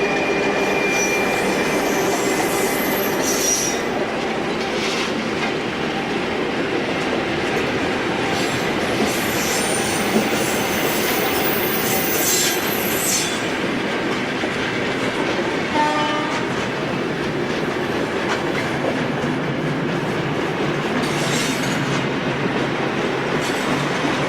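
A Portuguese Railways (CP) locomotive-hauled train passes, its loud, continuous rolling rumble carrying rhythmic wheel clatter, squealing wheels and a horn blast, with no voices heard.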